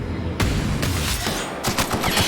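Loud, rapid bursts of gunfire in a video game, coming in quick repeated volleys over a couple of seconds with no pauses for talk.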